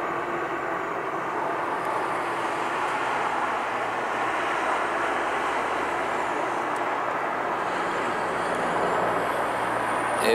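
Military helicopters fly over a lake, a steady broad engine and rotor roar that holds constant at moderate distance throughout, with no voices.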